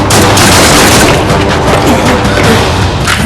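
Gunfire in a Kinyarwanda-narrated action film: a loud, dense barrage of shots and booms running continuously for a few seconds, with no clear gaps between the bursts.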